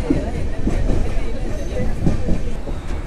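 The Nellai Express rolls into Virudhunagar Junction, a steady rumble of wheels and carriages with faint clacking of rails, heard from inside the train over soft passenger chatter.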